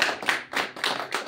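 An audience claps in short, rhythmic bursts, fairly close and moderately loud, at a business event for True Leenet Care Pvt Ltd.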